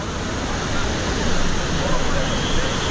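Abbi waterfall in Coorg pours down in a loud, continuous roar close by, with rain falling and a crowd of visitors around.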